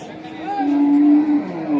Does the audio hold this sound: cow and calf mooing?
yes